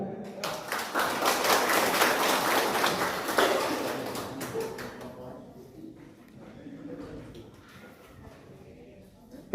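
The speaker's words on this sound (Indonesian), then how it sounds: "Ya, sebelum dimulai tepuk tangan." An audience at a neighbourhood RW 04 Sukahaji candidate forum breaks into dense applause that lasts about five seconds, then thins into a few scattered claps and fades to quiet room murmur.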